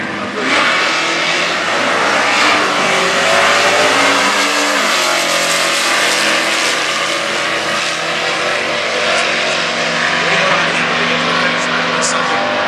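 A 1984 Chevrolet C10 stock-class pickup with a 350 engine and automatic transmission roars down a drag strip at Indy stock eliminations. The engine note is loud and sustained, with one gear change partway through and a voice talking over it.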